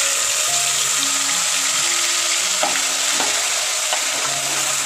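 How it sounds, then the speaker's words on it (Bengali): Onion paste fries in a pan with whole spices while being stirred, a steady close sizzle broken by a few light scrapes and taps of the spoon against the pan. "পেঁয়াজ বাটাগুলোকে ভালো করে নেড়ে চেড়ে ভেজে নেব"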